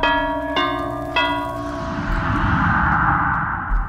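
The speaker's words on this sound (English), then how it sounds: "Bells are ringing for you." Bells toll in the horror game Dead by Daylight, three clear ringing strikes in quick succession about half a second apart, each leaving a long resonant echoing decay that blends into a dark ambient wash.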